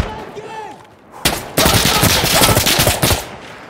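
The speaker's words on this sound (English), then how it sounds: "this thing has like a lot more recoil than the SKS" M4 rifle firing in Insurgency Sandstorm, a loud close burst of rapid automatic shots that breaks in suddenly after a quieter opening and rattles on continuously to the end.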